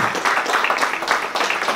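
A hall audience applauding the new director of a cinema venue, a dense continuous patter of many hands at moderate level with no pauses.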